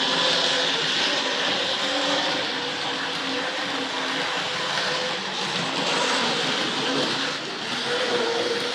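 An early-1970s Hornby R.258 Princess Elizabeth model locomotive runs steadily along the layout's track with a continuous whirring, rumbling motor hum that stays fairly loud and even throughout, with no talk.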